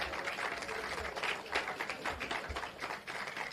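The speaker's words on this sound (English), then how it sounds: "Give them a big round of applause." A crowd gathered in Portmore applauds the hard-working National Solid Waste Management Authority team, a soft, fairly distant patter of clapping that runs on evenly.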